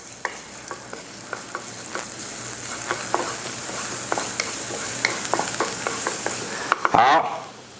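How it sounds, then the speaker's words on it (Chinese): Minced ginger fries in a little oil in a wok, a steady sizzle with light repeated stirring clicks, ending in a louder burst of scraping. "把姜末下锅"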